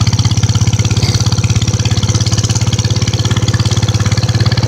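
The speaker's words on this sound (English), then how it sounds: "I don't care if it does knock. It sounds better than all my other motorbikes rolled into one." A vintage Whizzer motorbike engine runs steadily close by with a rapid, even knocking thump and no other sounds.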